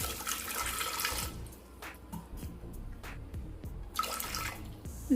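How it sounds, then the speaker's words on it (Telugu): Water poured into a pressure cooker holding jackfruit seeds, a steady splashing stream that breaks off midway and returns briefly near the end, fairly quiet and with no talk. "ఇప్పుడు ఒక కుక్కర్ తీసుకొని ఈ గింజలు ఇందులో వేసుకొని ఇవి మునిగే అంత వాటర్ వేసుకోవాలి"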